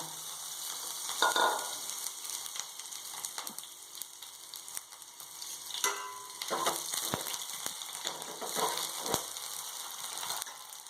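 Mustard seeds and urad dal fry in hot oil for a spinach kootu, giving a continuous sizzling crackle with occasional louder pops and sharp stirring scrapes, with no talk over it.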